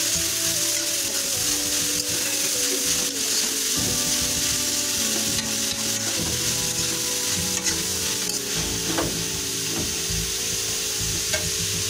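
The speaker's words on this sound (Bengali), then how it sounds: "আমরা এই গরম তেলের উপর কেটে রাখা 600 গ্রাম পাতাকপি যোগ করে দেব।" About 600 grams of finely chopped cabbage fries in hot oil with a loud, constant sizzle, broken by the clatter and scrape of stirring. No one speaks.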